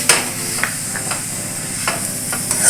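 Dill leaves frying in oil for a North Karnataka style palya, a continuous sizzle and hiss with the scrape and clatter of stirring against the pan at irregular intervals.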